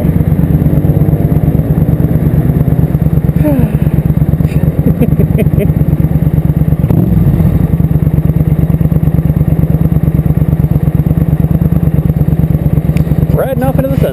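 A motorcycle ridden home after dark, its engine droning steadily and close at cruising speed with a constant low rumble, while a rider talks briefly over it.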